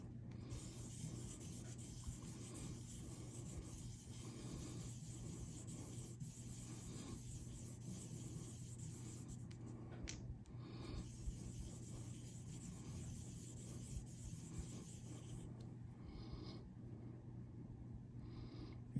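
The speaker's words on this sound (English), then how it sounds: "Yeah, it's polishing up nicely." Parts of a Benchmade Bugout folding knife with blue G10 scales and an Axis lock are rubbed against a polishing surface. The faint, continuous scrubbing strokes run for the whole stretch, close and quiet, and nobody speaks.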